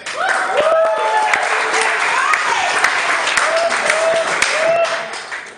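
Applause from a comedy club crowd at Scotts carries on steadily while someone talks over it, fading slightly near the end.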